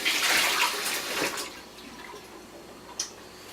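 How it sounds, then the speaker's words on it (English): Warm water pours over a Hario coffee filter, a steady splashing stream that fades after a second and a half, followed by a quiet lull and one small drip. "remember to run a little warm water to create a nice environment for your coffee to brew into"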